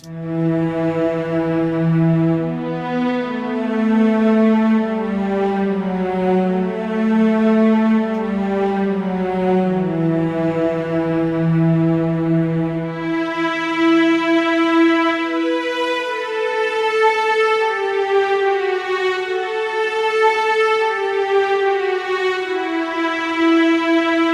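A lush Omnisphere synthesizer pad plays slow, sustained chords that swell and shift, with a brighter layer entering midway. Continuous, loud and without speech.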